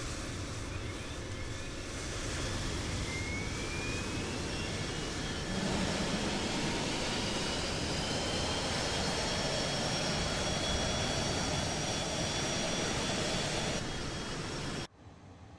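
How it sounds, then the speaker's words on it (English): Phenom business jet engines run steadily on the ground, a broad continuous roar with a high turbine whine, loud and unbroken for most of the stretch before cutting off abruptly near the end. "Okay, engines are running."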